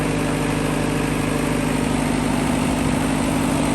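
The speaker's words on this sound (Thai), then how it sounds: "จะสั่งให้ เครื่องดับ แต่ยังไม่ดับเพราะว่าจะคลายความร้อนก่อน" An engine idles steadily to cool down before being shut off, a constant close, even hum with a low vibrating drone and no talk.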